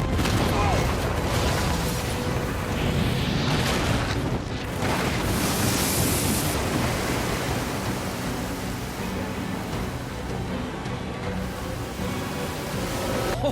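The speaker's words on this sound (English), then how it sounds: "an explosion goes off, watching the water rip into Ripper territory" In the video game Days Gone, a blown-up dam releases a torrent of water into enemy territory: a dense, roaring wash of rushing water with booming undertones that stays loud and steady for over thirteen seconds.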